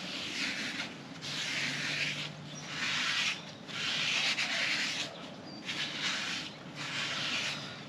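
Someone scrapes dirt off a motorcycle while cleaning it, making about seven faint, close, rhythmic rubbing strokes separated by brief pauses, with no talk.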